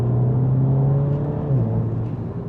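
Mini F56 John Cooper Works engine droning steadily at close range, holding a low hum with a slight pitch dip midway as it shifts down into second gear, no talk.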